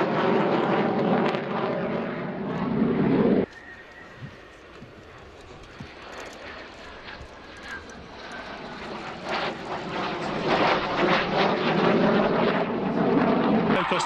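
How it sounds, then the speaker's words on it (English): Light aircraft at the 2011 Cotswold airshow passing low with gear and flaps extended, engine drone loud at first, dropping abruptly, then power coming back on and building steadily. "you can see Jules going past, gear and flap extended. And then power comes on"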